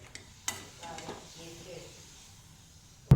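Spinach puri frying in hot oil, a soft sizzle with a few light stirring taps, fairly quiet, ending in a sudden louder bump.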